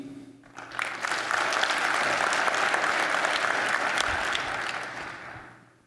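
A conference hall audience claps in a show-of-hands style vote, dense applause rising quickly, holding steady for several seconds, then fading out near the end.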